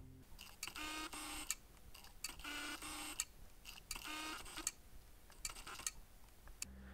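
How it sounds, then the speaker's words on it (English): A Fuji XF 35mm f/1.4 lens hunts for focus, its motor giving faint, rapid ticking and whirring bursts that repeat in short clusters, very quiet and close-up with no talk. "the lens is still making noise as it is still using its motor to do the focusing."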